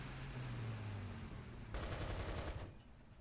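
A tank gun in War Thunder fires a single heavy shot, a loud burst that rolls into a rumbling, pulsing tail over low engine hum.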